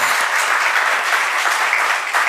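Dense, steady audience applause fills the hall at a Hindi spiritual discourse, loud and close, a continuous wash of many hands clapping with no break and no speech over it.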